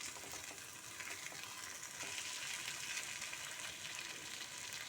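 Eggs fry in pepper masala over low heat, giving a steady, faint hiss and fine crackle that continues evenly throughout, close up and with no other sounds.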